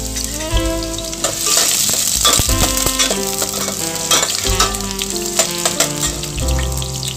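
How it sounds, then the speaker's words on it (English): Onions saute in hot oil for a bottle gourd chicken curry, producing a close, continuous sizzle with occasional stirring scrapes and no talking. "I'm going to add the onions and I'm going to saute them for a while."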